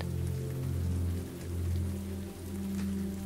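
Steady rain falls as an even, continuous hiss with a low hum beneath it, unbroken and fairly loud throughout, with no voices.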